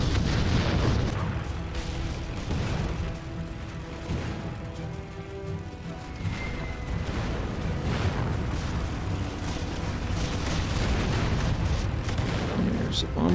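Booming artillery fire and explosions in the VR strategy game Final Assault VR, a dense, continuous low rumble of blasts with loud bursts near the start and end and a voice talking over it.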